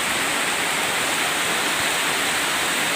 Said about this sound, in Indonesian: Hujan lebat, mandi-mandi nih.